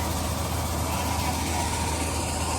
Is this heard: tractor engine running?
yes